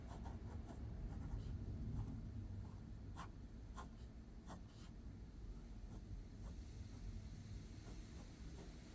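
A pencil sketches a pistol on paper, its faint, short scratching strokes barely rising above a steady low rumble in the room.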